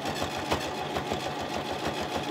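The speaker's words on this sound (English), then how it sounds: "it's mummy showing people how to sew" A home sewing machine stitches fabric for a summer romper, a steady rapid mechanical whirring and clatter with a rhythmic pulse, close and continuous throughout with no speech.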